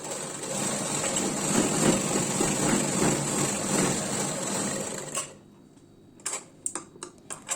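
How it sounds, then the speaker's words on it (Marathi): Sewing machine stitching a blouse strip, a steady fast motor whir with rhythmic ticking for about five seconds, then it stops and a few faint clicks follow. "आता याच्या दुसऱ्या बाजूलाही आपल्याला शिलाई करून घ्यायची आहे"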